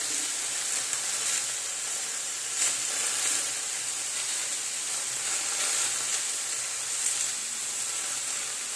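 Sweet potato frying in a pan, a steady close sizzle with bursts of hissing spatter throughout and no talk.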